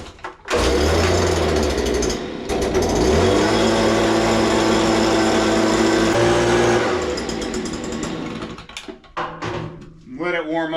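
A small gas-powered equipment engine fires up after a brief pause and runs loud and steady with a buzzing, rattling idle for about six seconds, then shuts off, and a voice follows.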